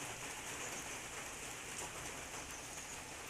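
Steady rain falls outdoors, a dense even hiss of drops on surfaces, continuous and fairly close, with no voices.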